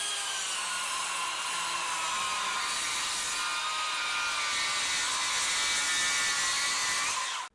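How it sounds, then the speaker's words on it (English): A SKILSAW 48v worm drive circular saw cuts through a treated 6x6 post with a loud, steady high-pitched whine that holds for about seven seconds before stopping abruptly. "The power of that Skilsaw is just insanity."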